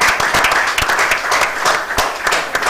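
A lively audience breaks into applause, many hands clapping densely and loudly without pause, with sharper individual claps popping out of the steady roar.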